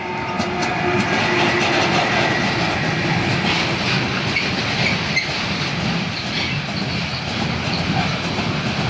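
Freight trains carrying cargo from the Port of Koper rush past at high speed, a loud continuous roar with wheel clatter and faint squeals, steady and close throughout with no talk.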